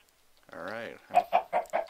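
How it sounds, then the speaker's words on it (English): Chickens on a video game farm give a drawn-out squawk followed by four quick, evenly spaced clucks, close and clear with no talking. "Got a little bit of a chicken farm now."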